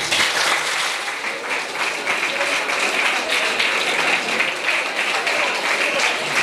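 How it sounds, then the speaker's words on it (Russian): A school audience applauds a teacher, with steady, full, continuous clapping from many hands that holds at an even, loud level throughout. "Не надо хлопать."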